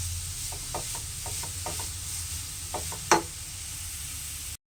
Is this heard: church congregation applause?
no